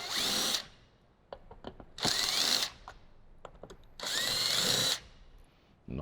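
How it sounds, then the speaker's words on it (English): A cordless screw gun fitted with a T20 Torx bit backs out factory speaker screws on a 2018–2023 Jeep JL Wrangler, three close, loud whirring bursts separated by short pauses with faint handling clicks between. "we grab our screw gun and our T20 Torx and go ahead and start removing all of those."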